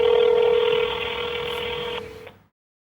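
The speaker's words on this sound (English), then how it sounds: "the phone makes an automatic emergency call to the emergency response center and places it on the speakerphone" A Sonim XP3340 rugged phone auto-dialing an emergency call gives out a steady electronic tone over several stacked beeps, loud and close, cutting off after about two seconds with a short final blip.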